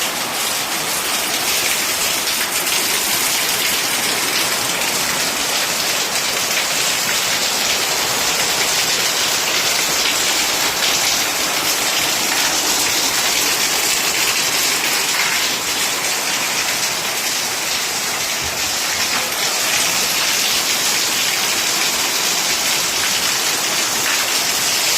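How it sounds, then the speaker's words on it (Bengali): Heavy rain pours outside in a dense, unbroken roar of drops hitting surfaces, loud and constant throughout with no voices. "বাইরে দুর্ধর্ষ বৃষ্টি পড়ছে"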